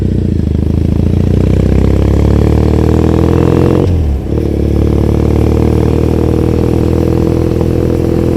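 A motorcycle engine revving loudly on a ride through Tokyo, a close, continuous roar with rising pitch that cuts out briefly mid-clip before building up again.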